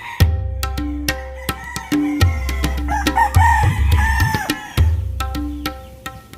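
Gamecock roosters crowing repeatedly, loud and close, with overlapping cock-a-doodle-doo calls and some clucking in a fighting-cock yard, no talk.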